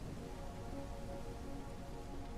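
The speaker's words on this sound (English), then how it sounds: "when it's all horrible outside and pouring with rain like this" Steady pouring rain in the Ranch Simulator video game, a dense even hiss of rainfall outside that holds constant throughout with no voices.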